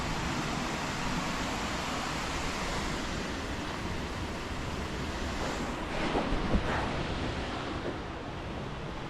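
A river at Horrabridge flows with a steady, broad rush of water, constant and fairly close, and a few faint bumps partway through.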